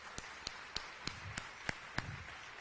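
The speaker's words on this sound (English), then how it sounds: "Let's give them a hand." Sparse, evenly spaced claps ring out in a hall at a breakfast event, about seven crisp hits roughly three per second, fairly faint and without a full crowd roar.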